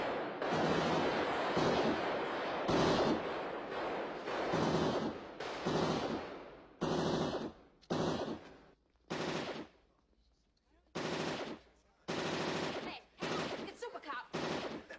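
Bursts of Auto 9 pistol gunfire in the video game RoboCop: Rogue City, loud rapid volleys repeating in short clusters with brief gaps between them, with some voices beneath the shooting.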